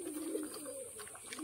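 A male Kalanka pigeon coos in a loft, a soft, low, continuous murmuring call that carries on steadily through the short moment with faint background noise.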